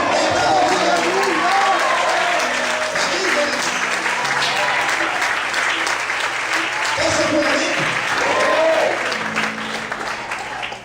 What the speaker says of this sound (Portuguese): Quem acredita nisso, dá um glória e aplaude o Senhor.